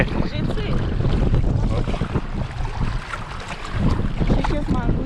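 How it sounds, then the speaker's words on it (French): Strong, gusty hurricane wind of about 16 to 20 knots on the Îles-de-la-Madeleine buffets the microphone in a continuous loud roar that swells and eases with each gust. "Le vent en ce moment il est très rafaleux."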